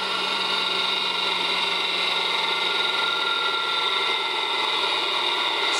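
An electric motor runs steadily on a VFD drive, a constant whining hum with tonal overtones and no change in pitch or level, close and alone throughout.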